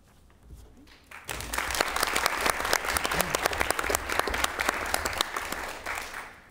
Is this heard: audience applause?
yes